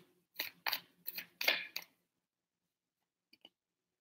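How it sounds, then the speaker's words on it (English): Tarot cards being shuffled during a reading, five quick crisp riffling bursts close up in a quiet room, then near silence broken by a brief soft click. "I want to shuffle."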